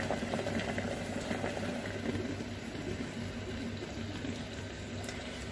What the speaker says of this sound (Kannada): ಇವಾಗ ಕುದಿ ಬಂದಿದೆ